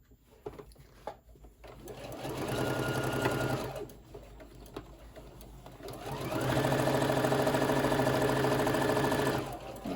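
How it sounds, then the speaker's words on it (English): A sewing machine stitches a tote bag in two steady runs of rapid mechanical whirring, each lasting a few seconds with a brief pause between, close and clear with no voices. "just try to sew as straight as you can"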